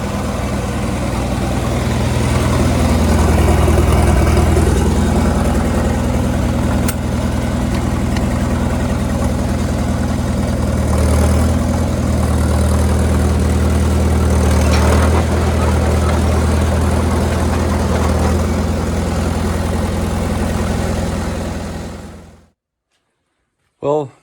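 Caterpillar D2 bulldozer engine running steadily at idle after a crank test, a continuous low rumble close by that holds for about twenty-two seconds before cutting out abruptly.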